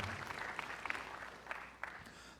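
Audience applause at the GAWU 50th anniversary celebration in Guyana, a steady faint wash of many hands clapping with a few sharper claps standing out.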